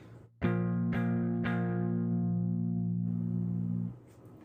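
A clean electric guitar rings out, three chords strummed in quick succession and left to sustain and slowly fade, with no distortion.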